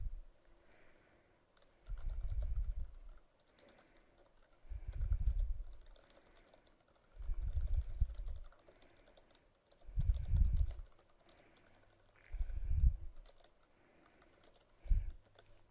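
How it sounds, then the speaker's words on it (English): Typing a poll question on a computer keyboard, keystrokes coming in short soft clusters of rapid taps separated by pauses, close and fairly quiet with no talking. "I'm going to begin to type my question."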